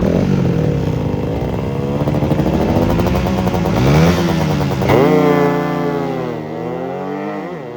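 Raider FI motorcycle engine revving loudly nearby, its pitch sweeping up and down in repeated surges, then RPM sagging and dropping toward the end with no talking.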